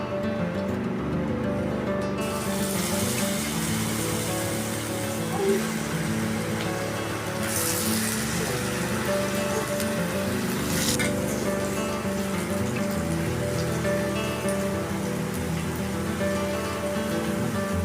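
Cauliflower (gobi) pieces deep frying in hot oil in a kadai, a dense, loud, rain-like crackle that runs unbroken and close throughout, with brief brighter bursts of spatter.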